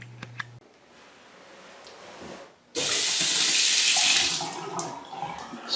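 A newly installed bathroom sink faucet is turned on after a few small clicks and handling noises, releasing a steady, close rush of running water that streams into the basin.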